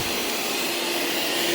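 Two vacuum motors run together at full power for car-seat upholstery pre-vacuuming, giving a loud, steady, unbroken roar with a faint whine on top and no talking.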